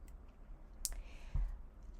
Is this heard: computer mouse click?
yes